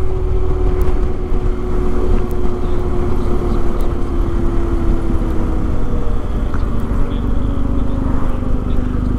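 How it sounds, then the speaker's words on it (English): Mopeds pass on a mountain road near the Furka Pass, loud engine drone and buzzing puttering filling the whole stretch, with a steady tone and rumble underneath. "More mopeds!"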